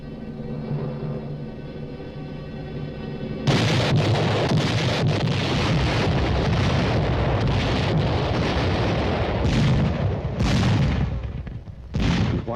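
Huge railway cannon mounted on flat cars fires shells: a sustained, loud, rumbling roar of heavy blasts with sharp booming bursts rising over a dense low-end wall of sound after a quieter opening.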